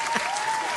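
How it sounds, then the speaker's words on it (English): Brief burst of crowd applause at a church gathering, dense steady clapping with a faint tone underneath. "Can we get a hand clap?"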